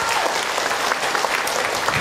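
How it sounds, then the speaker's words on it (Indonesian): A crowd of mothers at a religious talk breaks into loud, dense applause, close and continuous for a couple of seconds before cutting off abruptly. "Tepuk tangan atuh buat bunda semua."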